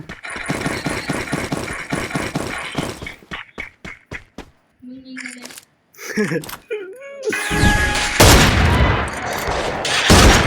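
Rapid, dense bursts of video game gunfire hammer away for about three seconds, then give way to scattered shots and voices before a loud, noisy burst of fire closes the stretch.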